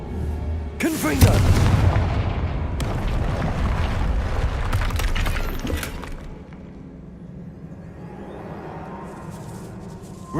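A Confringo blasting spell in the Hogwarts Legacy video game erupts with a loud, close explosion, then a long rumbling roll and debris clatter that slowly fade into a quieter game ambience.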